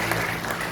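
A church congregation applauds together in a brief burst of dense, steady clapping.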